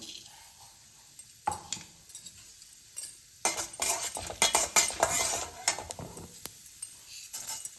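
Chana dal and urad dal frying in coconut oil in a pan: a light sizzle broken by bursts of metal spoon stirring and clinking against the vessel, close and intermittent, without speech.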